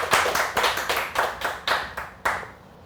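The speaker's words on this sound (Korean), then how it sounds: "박수 받네요." Hand clapping at a Buddhist dharma gathering, about a dozen distinct claps in a slow, loose rhythm from a small group, fairly close and clear, fading out near the end with no talk over it.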